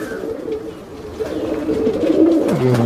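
A Saharanpuri pigeon coos loudly and close by, a steady rolling, throaty coo that runs through the whole moment with no voices over it.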